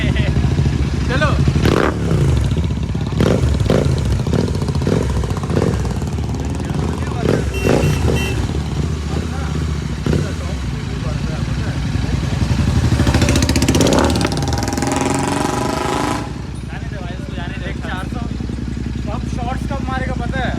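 A Continental GT650 motorcycle with a Red Rooster aftermarket exhaust is revved close up in repeated sharp bursts with some clatter. Voices can be heard around it.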